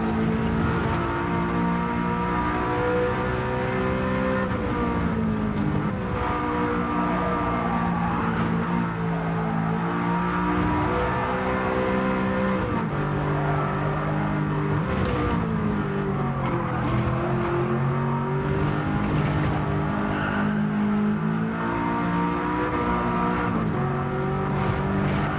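A race car lapping a circuit in the video game Gran Turismo 7, its engine a loud, continuous drone that climbs and drops in pitch through acceleration, shifts and braking, with no voices over it.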